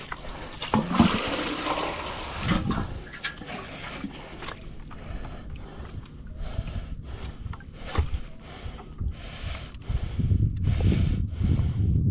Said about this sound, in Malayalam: ഒരു ശകലം വെള്ളം കൂടെ ഒഴിച്ച് വെച്ചേക്കാം.